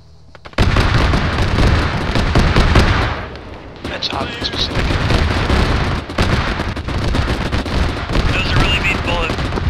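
Enemy fire strikes the Black Dragon in a combat video game: dense, continuous bursts of gunfire and explosions roar for nearly ten seconds, with a brief lull near the middle, while voices talk over the din.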